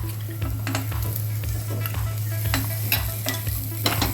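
Beans, carrots and cauliflower being stir-fried in a pan, a continuous close sizzle broken by rhythmic scraping strokes of a spatula, with a low steady hum underneath and no voices.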